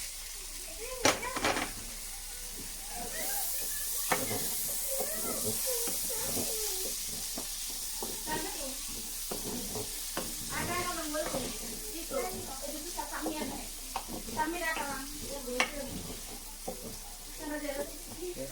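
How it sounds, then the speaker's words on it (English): Boiled chickpeas, 800 grams, tipped into a sizzling pan of chana masala and stirred, giving a steady frying hiss with repeated scraping and clattering from the stirring, fairly close. "Now I'm going to add the 800 gram of chickpeas already boiled."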